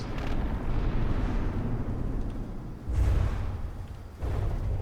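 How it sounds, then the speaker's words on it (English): Heavy torpedo explosions slamming into a battleship in a naval video game, a sustained roaring rumble with two further deep booms landing in quick succession, loud and close. "That volley of torpedoes nailed it"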